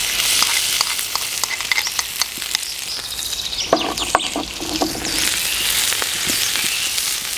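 Garlic and ginger paste frying in oil on a tawa, a loud continuous sizzle with crackling pops and stirring scrapes, close and steady throughout.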